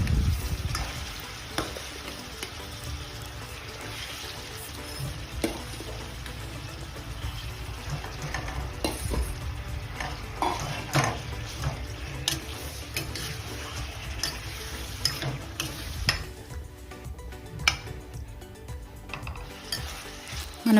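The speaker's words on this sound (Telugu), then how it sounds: "అందులో మనం ఇందాక మ్యారినేట్ చేసి పెట్టుకున్న చికెన్ని డైరెక్ట్గా వేసేసి చికెన్ని కాసేపు మనం 10 to 15 minutes మనం సిమ్లో ఫ్రై చేసుకోవాలి" Marinated chicken frying on low heat in ghee and coconut oil for a chicken ghee roast, a steady close sizzle broken by frequent stirring scrapes and clinks against the pan.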